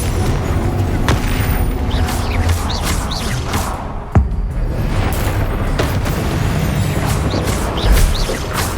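Repeated Confringo blasting-spell explosions from Hogwarts Legacy, one loud booming crash after another, with a sharp standout blast midway through and dense combat noise throughout.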